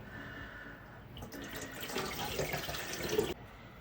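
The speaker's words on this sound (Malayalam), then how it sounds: "എല്ലാം നല്ലതുപോലെ ഒന്ന് കഴുകി വൃത്തിയാക്കി എടുക്കാം" Beef pieces washed under running water in a sink, a steady splashing flow that grows fuller and louder midway, then cuts off abruptly near the end; no voices.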